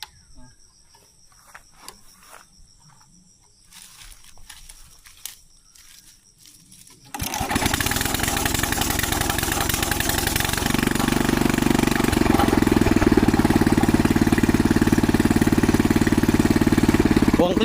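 An old engine beside a rice field cranks and catches in one try after a quiet stretch with faint ticking, then settles into a loud, steady idle that continues to the end.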